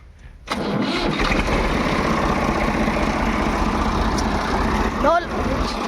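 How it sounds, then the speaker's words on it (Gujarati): A farm tractor engine cranks and catches, then settles into a steady, loud rumbling idle close by, with a short squeal near the end and a voice briefly heard. "ટ્રેક્ટરનો સેલ મારી લઈ"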